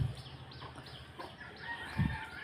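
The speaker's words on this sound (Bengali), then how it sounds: "একটা মুরগি বাচ্চা নিয়ে যাচ্ছে।" A hen leading her chicks near a village mosque, with short clucks and peeps coming from close by and a louder low burst near the end.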